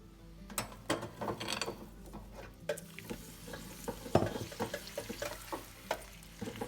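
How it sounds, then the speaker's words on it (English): Busy kitchen clatter with bubbling, sizzling deep-fryer oil at 130°C blanching lobster, scattered metallic clinks and scrapes, fairly close, no talking. "So into the fryer at 130 degrees Celsius for about 5 to 6 minutes."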